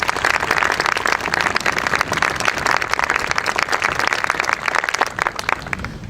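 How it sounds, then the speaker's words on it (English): An audience at a veterans memorial dedication at Gettysburg College claps steadily in a sustained round of applause, moderately loud, tapering slightly at the end. "Please join me again in giving them another round of applause."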